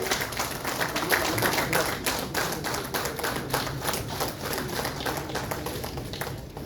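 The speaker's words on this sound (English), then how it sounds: "A louder round of applause will it have, ladies and gentlemen?" Audience applauding at a book release ceremony, rapid overlapping hand claps forming a steady rattling patter, fairly faint and distant, continuing for several seconds.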